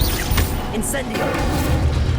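A fire spell, Incendio, is cast in the video game Hogwarts Legacy: a loud, dense burst of booming, crackling effects fills the short clip, with a brief whooshing flare partway through.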